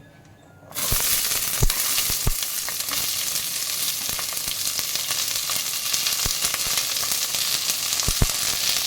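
Finely chopped small shallots sizzle loudly in hot oil for a mutton kulambu, a steady broadband crackle starting abruptly after a quiet moment, with occasional sharp pops and clinks standing out, no talking.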